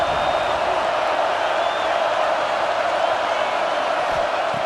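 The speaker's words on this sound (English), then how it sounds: "this big crowd doing everything possible to inspire this defense down here near the goal line" Stadium crowd in a college football video game near the goal line, a steady roaring wash of cheering and whoops that holds loud and even throughout, with no words spoken over it.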